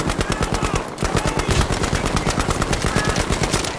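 Rapid automatic machine gun fire in the Battlefield V video game, a loud unbroken stream of close, evenly spaced shots with a brief pause near the start, then continuing at a steady clattering rhythm.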